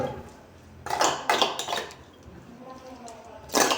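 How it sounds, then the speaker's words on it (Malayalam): Tamarind seeds being stirred into sugar syrup in a pan in a home kitchen, a spoon scraping and clinking against the metal in a few short bursts with quieter pauses between. "നല്ലപോലെ ഇളക്കി കുഴമ്പ് രൂപത്തിലാക്കുക മിക്സ് ചെയ്തെടുക്കുക"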